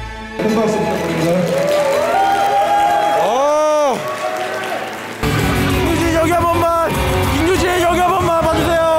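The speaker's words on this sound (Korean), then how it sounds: "큰 박수 부탁드립니다." A crowd at a Korean bodybuilding physique contest claps and cheers loudly for the contestants, a sustained roar of applause and shouts with brief pauses, a swooping electronic tone, and voices mixed in.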